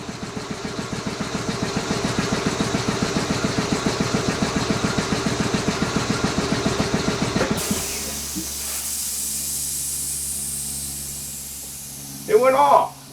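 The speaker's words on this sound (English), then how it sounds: "I thought that air compressor would go out by now." A nearby air compressor chugs loudly in a fast, regular pulsing rhythm, then shuts off abruptly, leaving a quiet room with a brief voice near the end.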